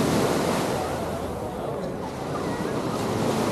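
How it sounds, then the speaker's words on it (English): Steady, broad rushing wash of waves breaking on Waikiki Beach, with some wind buffeting the microphone, heard continuously without a break. "I'm walking Waikiki Beach."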